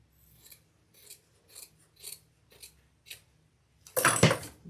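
Sharp scissors snip through leather bag lining for a wristlet crossbody bag: six crisp, evenly spaced cuts close to the mic, then a louder, longer rasping cut at the end, with no talking.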